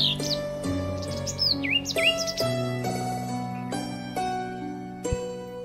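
House sparrows nesting in tree holes chirp and tweet in quick, bright bursts nearby, their calls repeating over a faint steady hum.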